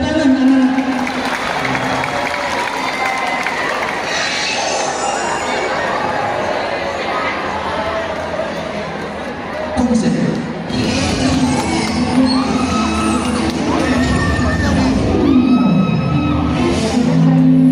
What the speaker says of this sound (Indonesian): Berikan aplaus dan tepuk tangan anak-anak.